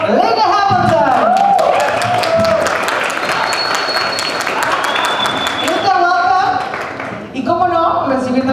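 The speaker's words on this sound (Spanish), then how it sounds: "Por favor, hay que recibir con un fuerte aplauso Linda Hamilton." Loud applause from a large crowd at a Terminator: Dark Fate press conference fills the space, steady clapping with cheering voices mixed in throughout.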